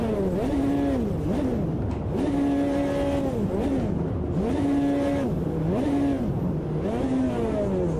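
A synthetic race car engine in the game Automobilista 2 revs repeatedly, pitch climbing and dropping in regular cycles, loud and continuous with no voices.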